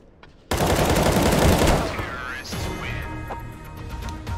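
Rapid automatic gunfire in the video game CS:GO bursts in loudly after a brief quiet start, a dense sustained volley that tapers into scattered shots and clatter.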